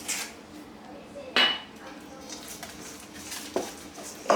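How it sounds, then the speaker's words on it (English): A spoon scrapes and clinks against a bowl as tomato pie filling is stirred, with a few sharper knocks over soft background noise. "Let's just kind of get some of this mixed up here."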